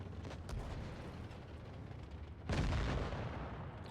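A tank cannon fires in World of Tanks Blitz, a heavy boom landing abruptly partway through over a constant rumbling battle ambience, loud and close, with the roar sustained afterward.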